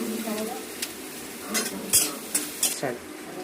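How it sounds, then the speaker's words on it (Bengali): Chopped garlic and ginger frying in butter with whole garam masala for chicken stew, a close sizzle broken by several sharp spoon scrapes and clanks against the pan. "বাটারটা একটু ভাজা যায় না। এবার দেবো রসুন কুচি, আদা কুচি"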